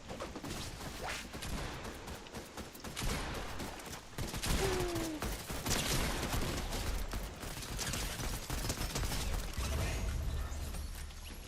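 Bursts of gunfire in the Fortnite video game, dense rapid shots crackling in loud volleys with scattered single pops, running almost continuously and close up.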